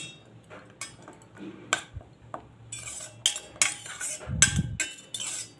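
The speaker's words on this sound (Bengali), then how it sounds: "একটু নাড়তে নাড়তে সাবানটা গলে যাবে" Soap base being stirred as it melts in a pan set over hot water, with a utensil clinking and scraping against the pan in short, irregular bursts, close by and without talk.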